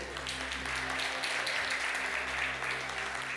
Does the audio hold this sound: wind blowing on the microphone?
no